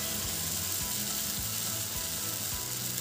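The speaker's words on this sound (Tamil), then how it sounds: "இது நல்லா புளி தண்ணி கொதிக்க ஆரம்பிச்சிட்டு பாருங்க" A pot of tamarind water bubbles and sizzles steadily up close, with soft periodic low pops beneath a continuous hissing simmer.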